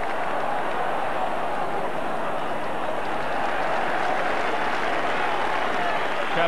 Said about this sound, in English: Really very big crowd at Ibrox now.